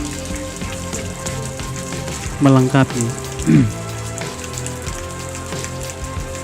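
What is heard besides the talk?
heavy rain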